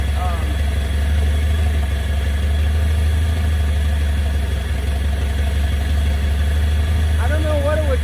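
An old scrapyard car engine, first started in 35 years, runs rough with a loud steady low drone and uneven vibration, heard close up while someone talks over it.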